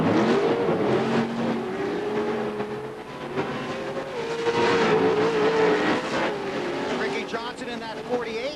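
Pro 2 and Pro 4 off-road race trucks roar around a dirt track at Primm, Nevada, engines revving and shifting loudly and continuously beneath an excited commentator's voice.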